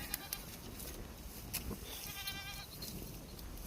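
Goats bleat outdoors by a tarmac road, faint and somewhat distant, with one wavering bleat standing out midway over soft rustling ambience.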